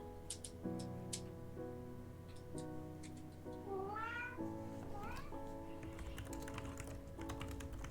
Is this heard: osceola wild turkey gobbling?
no